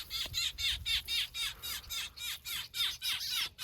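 Birds squawk in a rapid repeating series, about a dozen harsh, rasping calls in steady rhythm, fairly faint and without talk.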